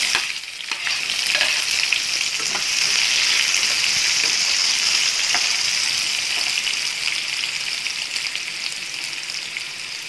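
Onions and curry leaves sauté in hot oil with fenugreek seeds for parupu urundai kuzhambu, giving a loud, continuous sizzle and frying hiss with faint stirring scrapes and no talk.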